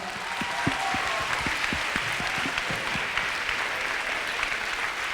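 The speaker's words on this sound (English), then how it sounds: "let's give the class one big round of applause" Steady applause from an audience at a school recycling assembly honouring a class, with dense, continuous clapping for about five seconds and no talk over it.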